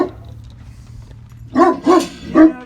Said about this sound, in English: Did she do nothing but bark?